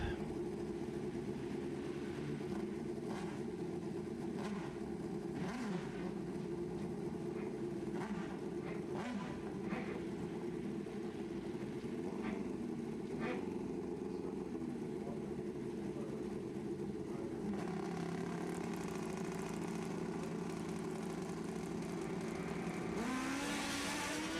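A drag race car accelerates down the lane at a Fuel Tech World Finals event, a sustained engine roar heard from a distance that climbs in pitch near the end, with faint crowd and track ambience.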